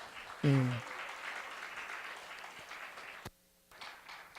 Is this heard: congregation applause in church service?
yes